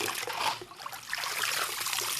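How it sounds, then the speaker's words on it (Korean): Valley sand and water rubbed against a silver knife to brighten it in a traditional knife-making workshop, giving a close, steady wet trickling and gritty scrubbing that runs throughout. "계곡의 모래와 물을 이용해서 은의 색깔을 밝게 만들어가는 작업입니다."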